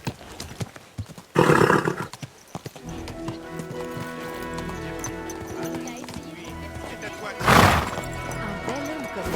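Hooves clip-clop steadily while a horse in the video game Kingdom Come: Deliverance II neighs and snorts in two loud bursts, with voices talking briefly.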